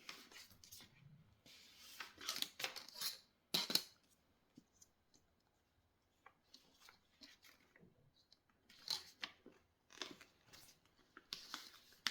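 Scissors snip through paper while shaping a paper airplane, a quiet, close series of crisp cuts in irregular bursts separated by near-silent pauses.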